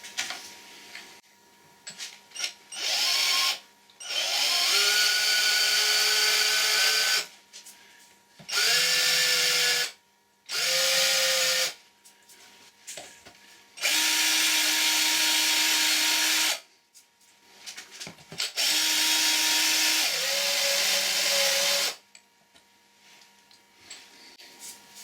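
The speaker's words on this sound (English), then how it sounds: "I've drilled a pilot hole, then a 1/4 inch diameter hole to match this angle on this flank here." Power drill boring a pilot hole and then a 1/4 inch hole in a lathe part, several bursts of whining motor with pitch drops as the bit loads up, separated by pauses, fairly close.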